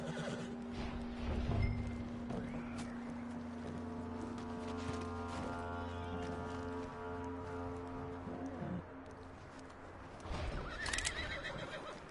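A horse in Red Dead Redemption 2 lets out a long, loud whinny, with hoof clip-clops and shuffling around it.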